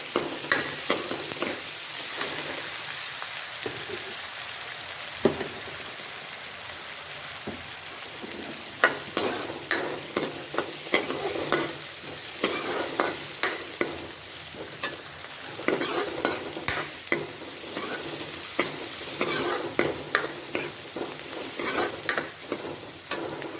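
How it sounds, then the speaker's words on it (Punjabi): Onions fry toward golden brown in a pan for egg bhurji, with a continuous soft sizzle broken by frequent sharp scrapes and knocks of a spatula stirring, close and fairly quiet, with no voices. "ਜਿੰਨਾ ਟਾਈਮ ਆਪਣੇ ਪਿਆਜ਼ ਗੋਲਡਨ ਬ੍ਰਾਊਨ ਹੋ ਰਹੇ ਨੇ"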